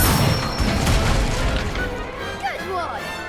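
A fiery Incendio spell bursts from a wand during a Hogwarts Legacy duel, a loud whooshing blast with crackling impact that fades, followed by a short high voice near the end.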